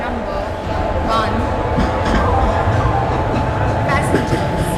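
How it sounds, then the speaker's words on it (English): An AC double-decker superfast express train sits at a station platform with a steady mechanical rumble and hum, faint clicks and a busy background murmur, and announcement-like speech blends into the noise. "Train number 22625 AC double-decker superfast express is scheduled to depart"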